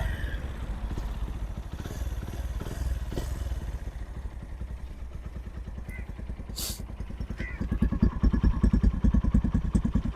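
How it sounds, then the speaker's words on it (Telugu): A motorcycle fitted with a replacement bend pipe runs with a steady, rough thumping engine beat up close, then grows louder and punchier in the last couple of seconds as the throttle rises. "మన బండి ఇంజిన్ బీట్ ఎలా ఉందనేది ఇప్పుడు చూపిస్తారు మీకు"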